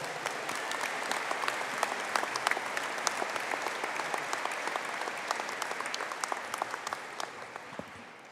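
An audience at a university conferring ceremony for business graduates claps for the Master of Arts in Accounting group, a dense, even round of applause with crisp individual claps that gradually fades toward the end.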